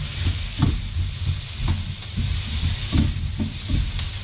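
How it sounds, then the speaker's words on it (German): Tomato and thyme sear in a hot pan, a steady loud sizzle and hiss broken by soft repeated stirring thumps, with no talk. "Alles einmal richtig schön scharf anbraten jetzt."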